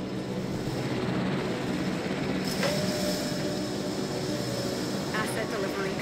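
A transport helicopter in the video game Jurassic World Evolution gives off a steady, droning mechanical roar at moderate volume, holding constant through a brief higher-pitched tone, with a voice speaking over it.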